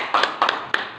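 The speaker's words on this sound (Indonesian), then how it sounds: "bagus sekali itu, tepuk tangan" Hands clapping in a classroom: three quick, separate claps in a short burst, close and moderately loud, with no talking.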